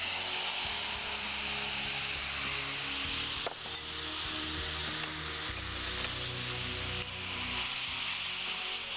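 Spice paste fries in hot oil with a strong, steady sizzle and hiss, stirred now and then with scraping strokes, the sound close and unbroken throughout.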